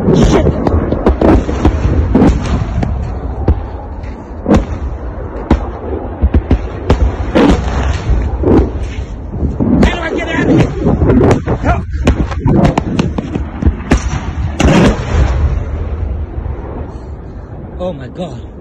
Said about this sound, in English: Guys, literally, we're running away from rockets over here.